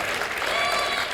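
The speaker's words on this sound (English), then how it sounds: "you're applauding that?" Steady audience applause fills the whole moment, a dense even wash of clapping from a live crowd at a talk event, with no voices standing out.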